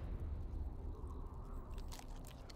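A crunchy biting and chewing sound as a character eats food in the video game Osiris: New Dawn, a short, fairly even burst of munching with no voices.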